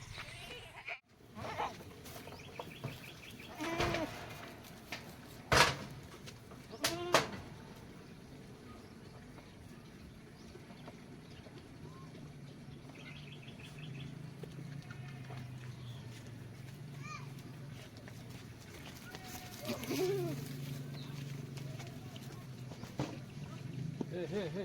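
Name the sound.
goats bleating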